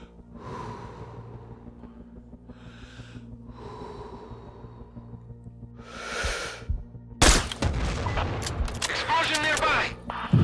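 A sniper rifle in the video game Sniper Ghost Warrior 3 cracks out sharply after a stretch of close, heavy breathing, followed by dense, loud bursts of gunfire and commotion to the end.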